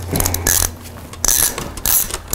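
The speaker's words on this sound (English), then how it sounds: "we'll undo the top bolt." Close, loud metallic ratcheting and clicking bursts come from a tool undoing the top bolt on a Luna Lander fat-bike suspension fork, with scraping in between.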